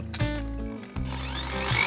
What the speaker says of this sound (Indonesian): Saya lubangi seukuran dengan diameter pipa kabel atau 5/8 dengan cara saya bor